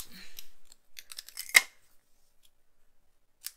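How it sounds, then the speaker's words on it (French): A few quick scissor snips through paper, one sharp louder cut in the middle and a last faint snip near the end, in an otherwise quiet room. "Je prends mes ciseaux."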